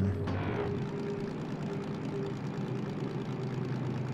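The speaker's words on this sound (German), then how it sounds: "Das wird der Motor auch überhaupt nicht gemocht haben." DM3 diesel locomotive in the Derail Valley train simulator straining uphill with a heavy boxcar load, a continuous low, rumbling engine drone held steady throughout, a brief hiss at the start.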